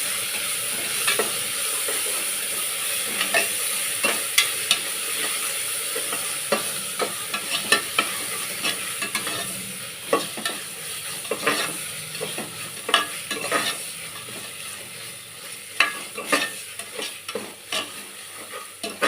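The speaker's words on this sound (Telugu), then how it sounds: "కొద్దిగా వేగిన తర్వాత పచ్చివాసన పోవాలి ఎల్లుల్లిపాయ పేస్ట్ పచ్చివాసన పోయేదాకా" Ginger garlic paste frying in oil for chicken pulao, a steady close sizzle with frequent scraping stirs of a spoon against the pan throughout.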